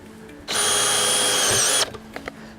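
A cordless drill drives screws into the base of ground anchor piles, one loud sustained whine lasting over a second, then stopping, with faint clicks after.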